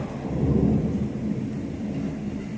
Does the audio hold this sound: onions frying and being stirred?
no